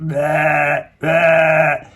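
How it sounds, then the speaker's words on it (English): Two loud, close sheep bleats, each drawn out for nearly a second with a short gap between, clear and alone without talk. "That's the real sheep noise that they make."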